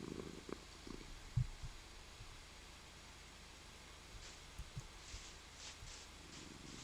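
A cat's soft, steady purr in the video game ZidnigCraft, faint and continuous with a few small bumps and rustles, no talking.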